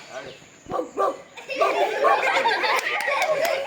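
During a group ball-passing game, a person imitates a dog with a few loud barks, and the group then bursts into laughter and noisy chatter.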